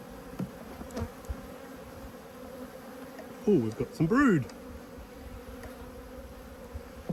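A steady close drone of many honey bees fills an open hive during an apiary inspection, while a person speaks briefly partway through over the constant buzzing.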